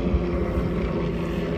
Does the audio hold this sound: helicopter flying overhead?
yes